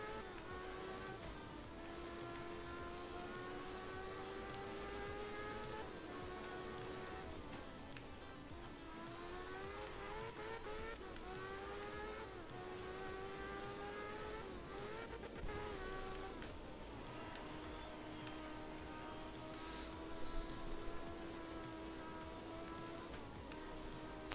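A rally car in the video game art of rally drones along in a high gear at low revs, a steady harmonic engine tone that dips and climbs a few times across a long, continuous stretch without speech.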